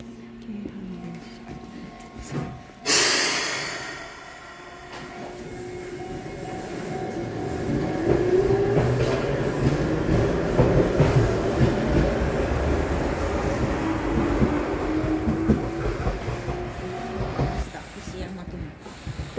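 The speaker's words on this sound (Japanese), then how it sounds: "この京阪の電車に乗っていきます" A ride aboard a Keihan electric train, heard from inside the car. A sharp burst near the start gives way to a building rumble and rhythmic wheel clatter as the train gets moving, with voices audible beneath.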